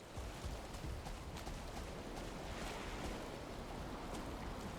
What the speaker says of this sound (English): With the waves and all. That's pretty cool.